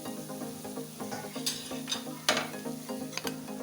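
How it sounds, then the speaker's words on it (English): Fish is added to a pot and stirred while cooking for fish rolls, producing a run of scraping, clattering spoon strokes at an irregular rhythm over a soft musical background. "I'm going to add the fish now."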